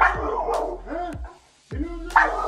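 A pitbull barks and yips loudly at close range in quick bursts, with short whimpering and growling tones between, pausing briefly midway before barking again.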